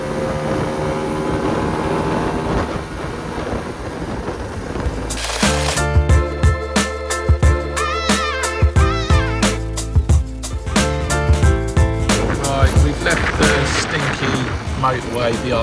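A long-abandoned barn-find Lambretta scooter runs on the road at full revs, its engine droning loud and steady with heavy wind buffeting and a faint rattle, while a rider talks over it.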